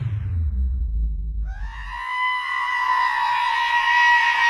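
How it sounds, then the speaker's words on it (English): A goat thrown in a video game lets out a long, loud, wavering bleat that rises into a strained scream, following a low rumbling thud, with no talking over it. "He threw a goat at me!"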